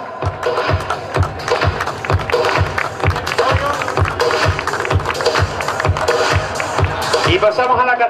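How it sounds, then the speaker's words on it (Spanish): Applause and rhythmic clapping for three young cyclists at an enduro race podium in Villa de Teror, a steady crowd clap under an announcer's voice. "Aplauso para los tres, que son la promesa"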